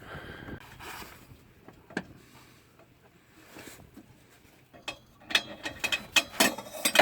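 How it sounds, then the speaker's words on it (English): A ratchet works on an exhaust nut while a KMS exhaust is fitted to a Ford Fiesta Mk7. Quiet fiddly clicks and knocks come first, then a quick run of sharp ratcheting clicks near the end, close and with no talk. "I'm going to try and put the ratchet through here onto this to see if we can get a good position"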